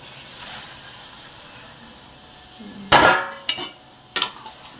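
Soaked, pressure-cooked chickpeas in curry poured into a kadai pan of fried spices, landing with a sudden loud splash and sizzle followed by two more sharp sloshing pours against a faint background hiss.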